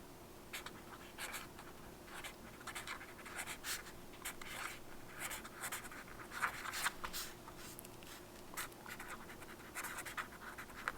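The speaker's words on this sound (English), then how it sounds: "Sometimes I'll write around the edges and write, random sayings or" Brush pen scratching across sketchbook paper in repeated short strokes, a steady close scratching rhythm running throughout with no speech.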